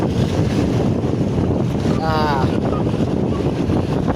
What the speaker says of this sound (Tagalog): malakas ang alon, malakas ang hangin, delikado